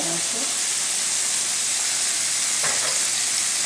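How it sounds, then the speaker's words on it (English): Eggplant curry frying in a pan as turmeric powder goes in, giving a loud, steady close-up sizzle and hiss with a brief stir partway through. "And now I'm going to add the turmeric powder"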